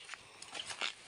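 A dog out on a forest trip gathering bamboo shoots makes a few short, high yips and whimpers in quick succession, fairly close, over a faint outdoor background.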